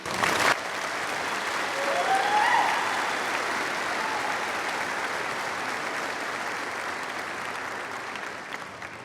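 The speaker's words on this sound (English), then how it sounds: "Please join me in a round of applause to welcome Mr." Sustained audience applause welcoming a commencement speaker at a graduation ceremony, a broad steady wash of clapping that swells early and holds evenly for several seconds.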